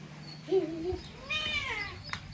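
A cat meows twice close by, a short rising call followed by a longer drawn-out meow, with quiet background noise.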